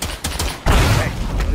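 A pipe bomb detonates in State of Decay 2, preceded by a few sharp gunshot-like pops, then a loud sudden blast with a sustained rumbling roar that carries to the end.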